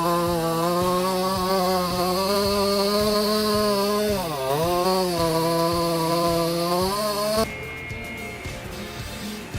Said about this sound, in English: Stop struggling with that chainsaw.